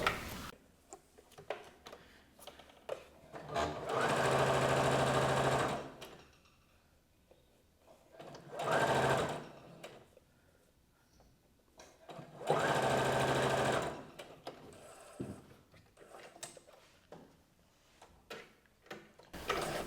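A sewing machine stitches fabric for a top with long straight stitches, giving three bursts of fast, buzzing mechanical whirring, the longest a few seconds, with quiet clicks and fabric handling in between; close and fairly soft overall.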